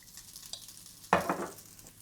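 Egg fried rice sizzling in vegetable oil in a pan rather than a wok, a quiet crackle that bursts into a brief, louder hiss of frying before easing off.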